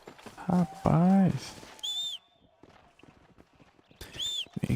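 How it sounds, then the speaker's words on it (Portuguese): A horse in the video game Red Dead Redemption gives a couple of loud, close whinnies and snorts, with faint hoofbeats and game sounds between them. "Vem aqui, meu cavalo."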